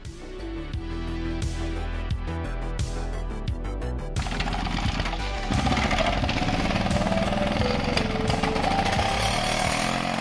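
A moped being started after refuelling: repeated pulses and kicks at first, then after about four seconds the small engine catches and runs steadily with a buzzy, rough drone, loud and close, with no talk.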